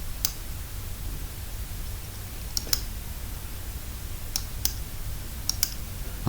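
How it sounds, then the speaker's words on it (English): A computer mouse clicks sharply and sparsely while making selections in image-editing software, single and double clicks spaced irregularly over a quiet room hum. "all I'm doing is clicking in these areas."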